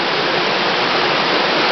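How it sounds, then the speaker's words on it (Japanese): A rushing stream and small waterfall inside a cave tunnel on a blackwater tubing route pour out a steady, loud, close wash of water that never lets up, with no voices. "この先は激しい流れ、ちっちゃい滝が見えます。"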